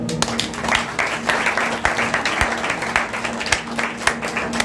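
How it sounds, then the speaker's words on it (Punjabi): During a sermon, a congregation claps for the Lord with a quick, uneven patter of many hands. The applause stays close and fairly loud throughout, and a voice can be heard under it. "ਪ੍ਰਭੂ ਨੂੰ ਤਾੜੀ ਮਾਰ ਸਕਦੇ"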